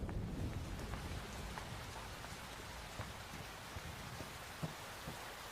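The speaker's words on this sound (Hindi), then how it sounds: "आ जाओ, बारिश आने वाली है," Steady rain pours throughout a film scene, a dense hiss of falling drops with a few louder splashes on a surface and no voices.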